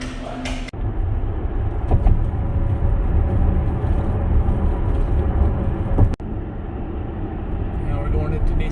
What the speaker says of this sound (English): There's a ton of traffic here.